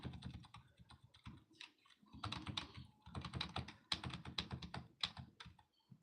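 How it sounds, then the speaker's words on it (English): Steady clatter of computer keyboard keys being typed, a rapid irregular run of light clicks in quick bursts with short pauses, close and fairly quiet, with no voices. "I'm using my computer keys to move that inside of there."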